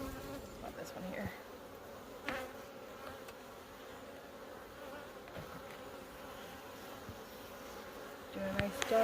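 Honey bees hum in a dense, steady buzz at an open backyard beehive during a June hive check, with close individual insects droning past and no speech.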